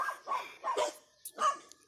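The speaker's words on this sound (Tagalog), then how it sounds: "patahol-tahol pa talaga yung aso guys" A dog barks four times in a quick, uneven series, sharp and close by, with no voices over it.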